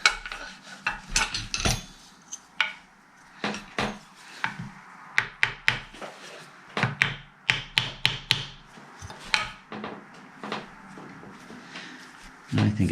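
Work on the nut of a 1962 Fender Stratocaster under restoration: sharp taps, knocks and scraping clicks in irregular bursts, close and fairly loud, with no talk.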